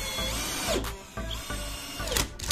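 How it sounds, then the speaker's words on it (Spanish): A Bosch 12V Heavy Duty brushless drill in screwdriving mode whirs steadily as it drives SPAX wood screws without pilot holes, its motor pitch rising and dipping in close, continuous bursts. "Tornillos SPAX para madera, sin agujero guía. Estamos en modo atornillar."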